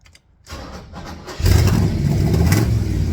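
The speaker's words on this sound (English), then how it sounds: "Let's see what a 427 aluminum head solid lifter car sounds like with close to 570 horsepower and 500 foot-pounds of torque" A 1967 Corvette with a 427 aluminum-head solid-lifter engine of about 570 horsepower cranks and fires, then settles into a loud, rough, close-up rumble with a brief rev.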